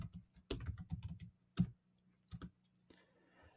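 Close, crisp computer keyboard typing: a quick run of clustered key clicks followed by a few separate taps and a brief pause, with no talk over it.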